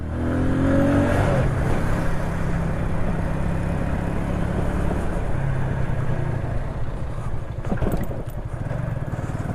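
A tuned Romet WS50 49cc moped rides along steadily, its small two-stroke engine droning loudly and continuously close by, with shifts in pitch as it changes speed.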